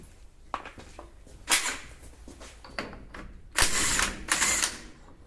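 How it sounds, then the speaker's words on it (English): Heavy 52 mm socket working the wheel bearing nuts off a Land Rover Defender 200Tdi hub, giving sharp metallic clicks and clanks followed by two longer, louder grinding rattles near the end, close and without talk. "You need the big 52 mil again to get these off."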